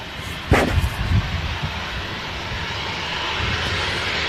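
A Jet2 Boeing 757 on approach to Manchester Airport in a crosswind gives a steady, distant engine roar under outdoor wind noise, with a few brief louder gusts near the start.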